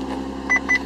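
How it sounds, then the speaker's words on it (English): Two short electronic beeps from a Passport radar detector powering on inside a 2012 Infiniti G37, sounding over a low steady cabin hum. "that noise you just heard there is the Passport activating itself"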